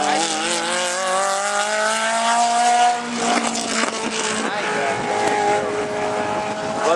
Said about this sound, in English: Well, the newer Lambo pulled away.